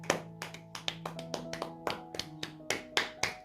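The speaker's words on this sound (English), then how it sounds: "Clap your hands." A small group claps hands close by, about two dozen distinct claps in an uneven rhythm, with a soft sustained tone underneath.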